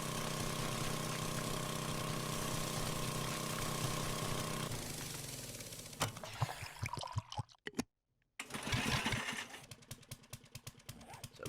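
A motorized auger in 7 Days to Die drills straight down through desert ground toward bedrock, a steady droning engine hum that turns choppy and uneven, breaks off briefly into silence, then resumes rough and irregular.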